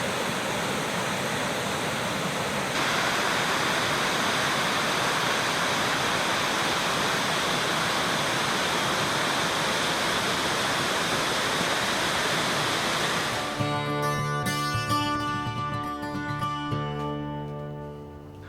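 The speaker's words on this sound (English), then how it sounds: "there's the very top of the waterfall. It's spilling right over." Steady roaring rush of water spilling over the top of a waterfall on Toxaway Creek, loud and continuous, then fades toward the end as a faint tonal hum appears.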